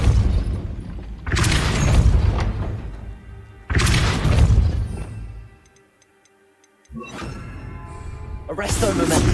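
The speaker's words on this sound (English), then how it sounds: "Depulso." Spell blasts from the Hogwarts Legacy video game boom repeatedly with heavy thudding bursts and rumbling decay, loud and close, separated by a brief quiet gap with faint ticking.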